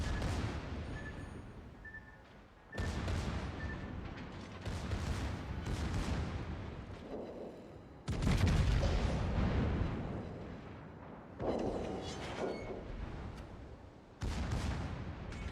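Naval gun salvos boom repeatedly from a warship in World of Warships, a series of loud, heavy blasts with rumbling tails spaced a few seconds apart, each followed by lingering roar.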